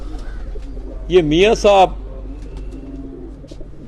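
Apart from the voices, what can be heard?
pigeon cooing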